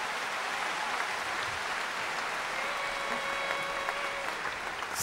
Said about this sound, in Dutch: een geweldig applaus voor ze